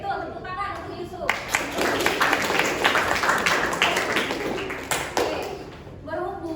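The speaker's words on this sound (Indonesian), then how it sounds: "tepuk tangan untuk Yusuf" Students in a classroom break into applause for a classmate, Yusuf, after his answer; about four seconds of dense, loud clapping that starts abruptly and fades out, with a teacher's voice heard just before and after.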